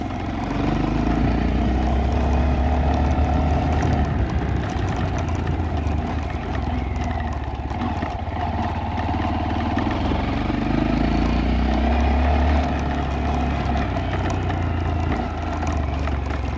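A motorcycle ridden without a helmet: steady engine drone runs throughout, a continuous low rumble with wind-like rushing noise layered over it, no voices.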